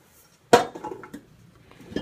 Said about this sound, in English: Now it's time to add our ingredients to the crock pot.